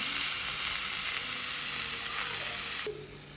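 Onions and potato sauté in a pan with a continuous close hiss of frying oil that drops slightly quieter just before the end.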